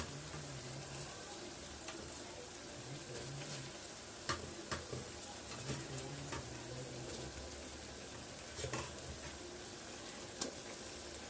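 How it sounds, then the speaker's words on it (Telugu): Fish pieces for a tomato and tamarind fish curry sizzle gently in a pan. The faint, steady hiss is punctuated by scattered utensil scrapes and taps, with a low hum underneath and no voices. "ఇప్పుడు మనం ఈ చేప ముక్కలు ఇందులో వేసేద్దాం."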